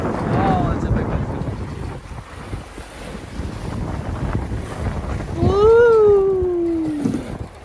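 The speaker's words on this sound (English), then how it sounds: "These are ocean rollers coming in." Sailboat pushing through strong wind and incoming ocean rollers near a headland, with steady roaring wind buffeting the microphone, rushing water, and a loud vocal whoop near the end.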